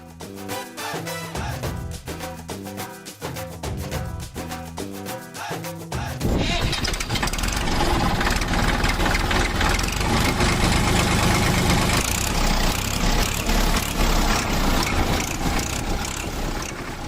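A loaded tractor-trolley engine starts with a low rhythmic chugging, then settles into a steady, loud, close idle with no voices.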